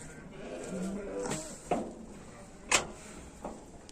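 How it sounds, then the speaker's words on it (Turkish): A sheep bleats faintly amid outdoor noise, with a few sharp knocks and rustles and a hint of voices nearby. "koyunu getirdik, zalımı getirdik"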